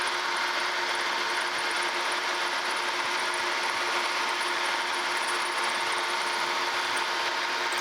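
A milling cutter steadily cuts a slide key slot through brass into cast iron for a Wadkin table saw fence, a continuous loud whirring machining drone without pauses or speech.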